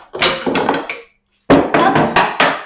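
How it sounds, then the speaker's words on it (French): A hammer taps a screwdriver to break a small attachment. A quick run of sharp taps stops for a moment of silence, then a second burst of five or six crisp, evenly spaced knocks follows. "en donnant un petit coup de marteau, ça va venir casser cette petite attache bien nette"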